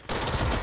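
Dense automatic gunfire in the video game Control, a loud continuous burst of rapid shots that starts abruptly and runs without a break.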